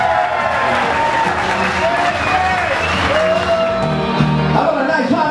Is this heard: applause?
yes